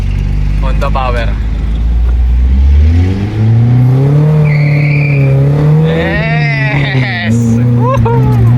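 A Honda EG's rebuilt engine revs hard during a power test, climbing steadily in pitch with a loud, sustained roar, while voices shout and cheer over it.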